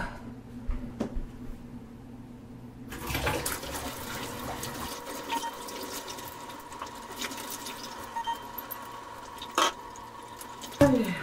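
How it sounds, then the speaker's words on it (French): Rice water poured over hair during a final rinse, heard as steady trickling and dripping with occasional splashes, close and moderately quiet, with no talking. "je vais faire mon dernier rinçage avec l'eau du riz"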